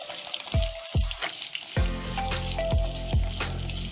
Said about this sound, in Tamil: 100 கிராம் சின்ன வெங்காயம் உரிச்சு அப்படியே முழுசா வந்து சேர்த்துக்கங்க.